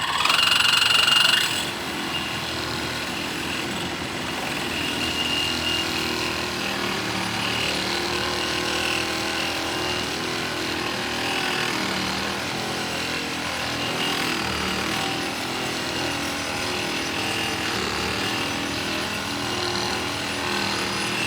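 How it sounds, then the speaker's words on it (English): A bimetal saw blade grinds through 2-inch Schedule 40 stainless steel pipe, a loud, continuous rasping drone that holds steady after a brief higher whine at the start. "I have some 2-inch Schedule 40 stainless steel pipe. I'll use the Lennox competitor,"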